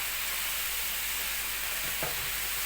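French fries sizzle in a large frying pan of hot oil, a loud, dense, continuous crackle close by with a brief stir partway through, and no voices.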